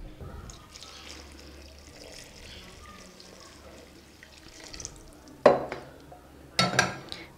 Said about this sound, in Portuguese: Primeiro a gente vai começar mexendo assim, com uma colher mesmo.